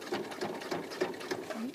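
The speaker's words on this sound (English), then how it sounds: "I'm just going to be sewing a straight line all the way down" A sewing machine stitches a straight seam with quick rhythmic needle ticks and a soft motor hum, close but fairly quiet, running alone for under two seconds.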